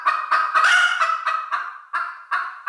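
Chickens squawk in a quick series of about ten loud, nasal, honking calls, close by and alone, with short gaps between them.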